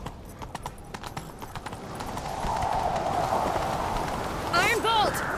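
Rhythmic hoofbeats of a galloping horse in The Witcher 3: Wild Hunt pound steadily, joined by a rising whoosh and a brief whinny-like squeal near the end.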